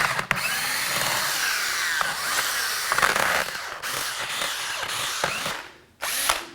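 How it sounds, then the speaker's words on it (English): A DeWalt power drill spins a cut-off 3/8 hex key to unscrew bolts, whirring steadily at close range with brief pauses, shifts in speed and metallic rattles. "I basically cut off a hex key, 3/8 hex key, and then stick it in my drill here"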